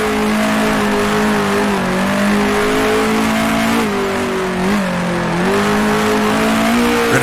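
A 1966 Formula One car engine at Monaco in the Grand Prix Legends racing game, loud and close, holding a steady high whine that dips and rises with gear changes and throttle, alone without talk.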